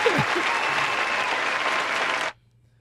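Applause plays on a podcast as a loud, dense burst lasting a little over two seconds, with a short vocal whoop at the start, then cuts off abruptly to near silence.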